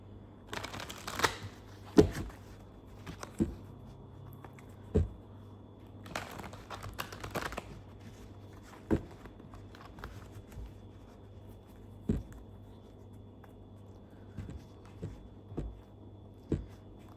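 Tarot cards being shuffled and handled in a quiet room, soft riffling bursts followed by scattered light taps and slides as cards are laid down, with no talking.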